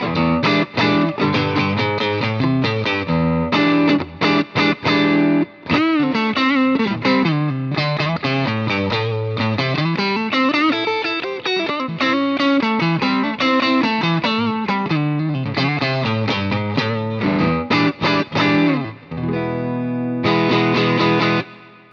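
Electric guitar through an overdrive pedal playing a continuous riff with gritty, saturated tone, loud and up close, with a short break near the end.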